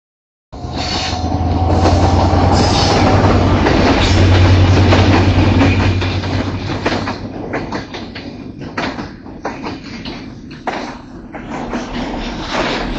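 A train at Paksey railway station in Bangladesh rumbles past loud and close, a steady heavy roar with rhythmic wheel clatter that eases slightly toward the end, with no voices.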